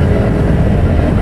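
A 2012 Yamaha YZF R1 1000 sportbike engine under way while riding, a steady dense low roar with constant loudness throughout, close and unbroken, with no talk over it.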